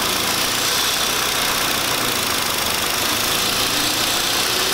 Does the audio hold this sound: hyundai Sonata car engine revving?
yes